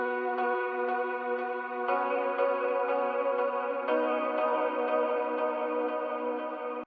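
Ambient Christmas-style synth melody in an FL Studio beat, treated with Valhalla Supermassive delay plus reverb, giving a dense, continuous wash of sustained shimmering notes with smeared echoes and a steady level, no talking.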